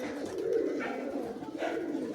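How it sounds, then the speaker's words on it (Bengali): Pigeons, long-flying homing birds kept at a house, coo softly and continuously nearby, with low rolling calls swelling twice. "তাহলে পায়রাগুলো দেখলেন এই যে পায়রা"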